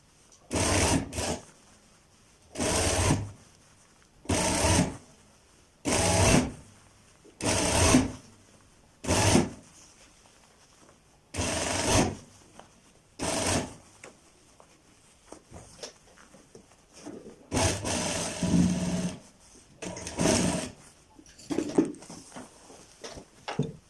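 A sewing machine stitches along a kurta sleeve in repeated short bursts, about nine runs of a second or so each separated by pauses, close and fairly loud, with quiet handling noises between runs.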